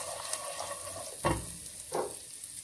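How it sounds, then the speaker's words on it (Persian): Garlic frying in melted butter in a pan, a soft steady sizzle with two brief louder bursts, likely from stirring, in a quiet kitchen. "کمی کره رو با این سیر تفت میدیم"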